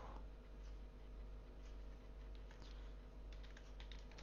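Typing a network switch command on a computer keyboard, faint rapid key taps close by over a loud steady background hum, with no talking.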